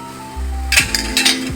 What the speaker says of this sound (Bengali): এবার এটাকে ভালো করে ঘেটে নেব।